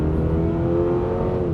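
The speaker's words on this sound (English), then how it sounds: "While the engine is revving this high" A 2022 Toyota GR86 engine revs hard and high, a steady loud sustained drone with strong harmonics held for the full moment, no talking over it.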